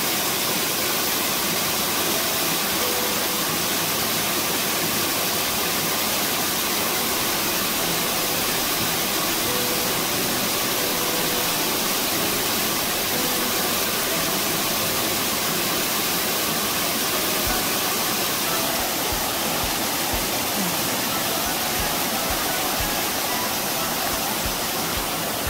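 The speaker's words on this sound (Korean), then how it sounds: "둘레길 마무리로 시원한 물소리 실컷 듣고 갈랍니다." Cool water flows beside a forest walking trail at the POSCO training center. A constant, full rushing sound fills the scene at an even level from start to finish, with no voices.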